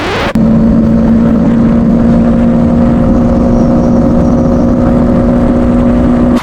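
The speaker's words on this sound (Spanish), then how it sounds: "Ay, que suena rico esta moto" A loud, steady motorcycle engine drone with a strong low hum that holds constant after a sudden start, close and continuous.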